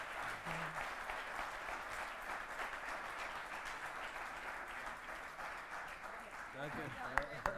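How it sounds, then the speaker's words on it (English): Audience at the EBSCON 2024 conference event giving a sustained round of applause, steady and fairly distant, with faint voices underneath and a few sharper sounds near the end. "we can applaud one last time for the EBSCON 2024"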